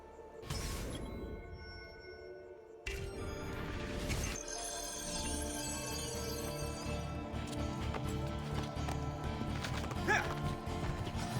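Horse hooves clatter in Assassin's Creed 2, starting with a brief neigh and a few loud strikes before settling into a steady clip-clop under a dense game soundscape with music.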